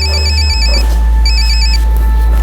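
A telephone rings loudly in two bursts of bright trilling tones over a low steady hum.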